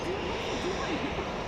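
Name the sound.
jet airliner taking off at Phoenix Sky Harbor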